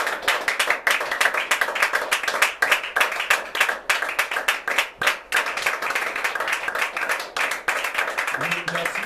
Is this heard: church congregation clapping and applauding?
yes